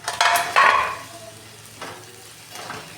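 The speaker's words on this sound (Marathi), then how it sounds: "कोथिंबीर टाकून चांगलं मिक्स करून घेणार आहे" A spoon stirs mixed-vegetable pulao with fresh coriander in a pan, with a couple of brisk scraping strokes at first and then a soft, steady sizzle with lighter stirs.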